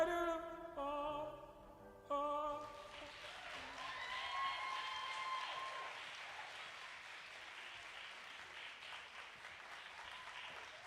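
An audience applauds after a live performance, a broad steady wash of clapping that begins as the music ends and carries on evenly, moderately near.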